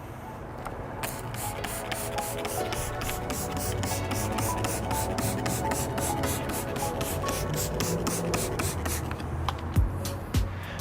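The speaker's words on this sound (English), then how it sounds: "We're just gonna spray it on, let it sit for a couple seconds, and wipe it off" Vinegar-water mix sprayed onto car paint and wiped off with a cloth, a continuous close rubbing and hissing with rapid regular strokes for several seconds, ending in a few sharper taps.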